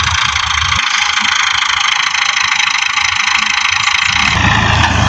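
A tractor engine runs close by with a steady, loud mechanical drone and a deeper low rumble that drops away briefly, then returns near the end.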